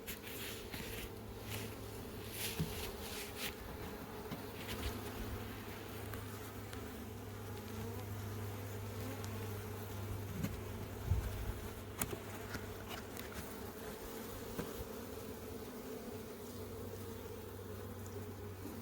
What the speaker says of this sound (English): They're working so hard on it.